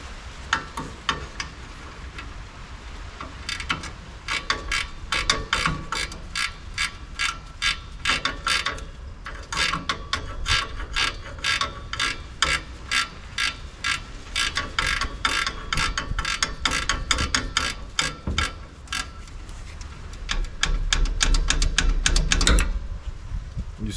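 A hand ratchet fitted with a 17 mm socket works loose the axle nuts on a new single-axle trailer rated at 3,500 lb. It sounds as rapid bursts of sharp, close metallic clicks, with pauses between strokes and a short louder scrape near the end.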